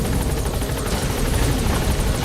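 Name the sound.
helicopter landing in Metal Gear Solid 5 video game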